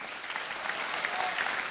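Concert audience at a televised music talent show applauding a keyboard player, a thick continuous patter of many hands at even loudness, with no voices over it.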